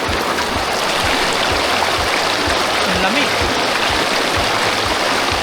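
Clear, cold water of a river near riverside cottages rushes in a loud, steady roar throughout, with a person speaking briefly over the flow.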